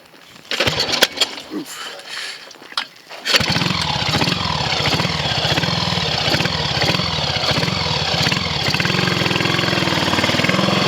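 A Triumph Sports Cub replica motorcycle engine fires after a few kicks and settles into a loud, steady idle with a rapid, even beat close by, and a person speaks briefly before it catches.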